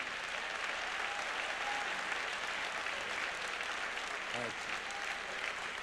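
Church audience applauding, a faint and steady wash of distant clapping with a voice briefly rising over it.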